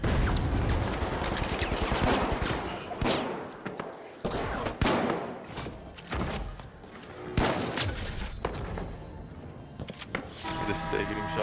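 Model 1887 lever-action shotgun blasts in the shooter game The Finals come as irregular, sharp, loud bursts in a chaotic firefight, with a voice audible beneath the shots.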